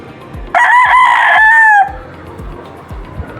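A prized gamecock crows once, loud and close, a single drawn-out call of over a second that trails off, with faint background noise around it.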